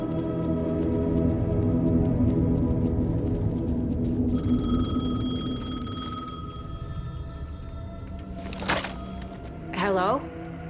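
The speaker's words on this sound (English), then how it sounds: "The payphone was ringing." A payphone rings in the video game Alan Wake 2, an electronic bell trilling steadily over a low ambient hum, with a few thuds and a voice near the end.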